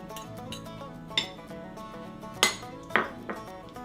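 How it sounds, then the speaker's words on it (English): Jalapenos being mixed into guacamole in a bowl with tomatoes: soft mushy stirring broken by a few sharp clinks of a utensil against the bowl, close and fairly quiet, with no speech. "Gonna mix in the jalapenos."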